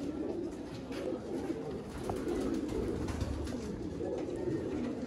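Pigeons coo in a low soft murmur, steady and moderately near, with no talk.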